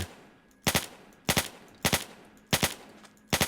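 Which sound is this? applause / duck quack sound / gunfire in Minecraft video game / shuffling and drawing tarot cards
gunfire in Minecraft video game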